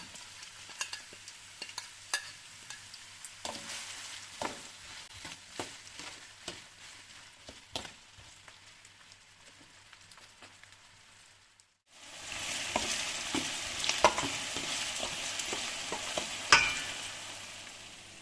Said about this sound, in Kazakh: Пиязымыз бен сарымсағымыз қуырылып жатқан уақытта